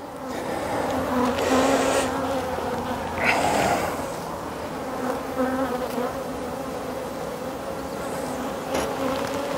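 Honeybees swarm around an open hive during an inspection, their dense, steady buzzing loud and close, with individual bees swelling louder as they fly near.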